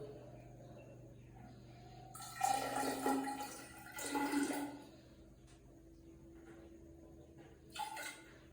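Distilled water trickles and splashes into a measuring cylinder in a chemistry lab, a few faint, short pouring bursts with quiet pauses between them.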